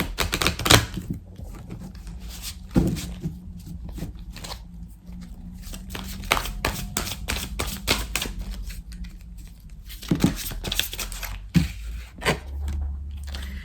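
Tarot cards riffle and snap close by as they are shuffled and drawn, a busy run of crisp clicks and flutters with brief pauses and a louder burst toward the end, no voice.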